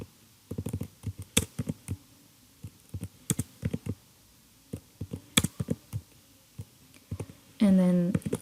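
Clattery typing on a computer keyboard while entering a Prolog file path, irregular bursts of sharp close keystrokes with short pauses, then a brief voiced sound near the end.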